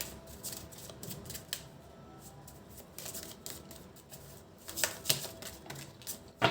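Tarot cards are shuffled and drawn during a reading, giving faint, close, irregular papery flicks, taps and riffles with a few sharper snaps near the end.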